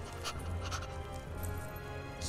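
Dog panting in the Final Fantasy VII Rebirth video game, a quick rhythmic series of breathy pants close up, fairly quiet over a low background hum.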